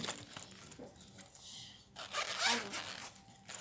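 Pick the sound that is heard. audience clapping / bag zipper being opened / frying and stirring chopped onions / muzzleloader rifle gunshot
bag zipper being opened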